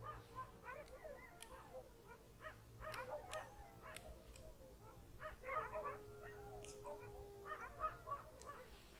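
A dog whimpers and cries outdoors in a jungle at night, thin high whines rising and falling repeatedly at moderate distance over a steady low background hum, with faint voices now and then.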